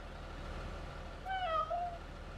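A cat meows inside the Cattle and Crops farming game, a single drawn-out meow rising and falling over a steady low engine rumble, clear and fairly close.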